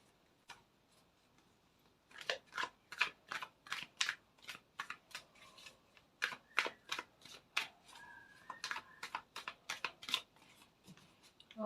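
Tarot cards being shuffled and drawn, a series of quick crisp riffling snaps in irregular bursts, close and fairly quiet.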